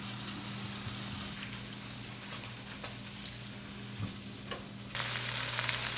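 Pork for lo mein fries in a hot pan, giving a steady hissing sizzle that turns louder and brighter near the end, with faint stirring scrapes and a low hum underneath.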